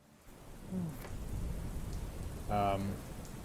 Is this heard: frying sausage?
no